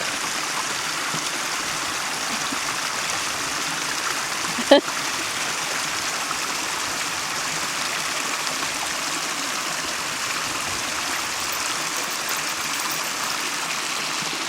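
River stream on Dartmoor flowing in a steady broadband rush, continuous and fairly close, with one brief splash partway through and no talking.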